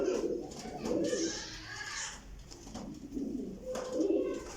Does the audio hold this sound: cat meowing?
no